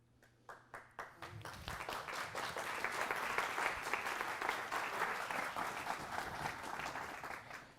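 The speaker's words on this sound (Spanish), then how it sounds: "Gracias por el aplauso" Audience applause during a Catholic priest's sermon, starting with a few scattered claps that swell within a second into sustained, dense clapping from a large crowd, steady and fairly loud to the end.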